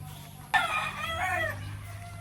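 A fighting rooster crows once, loud and near, a single drawn-out call over a low steady hum.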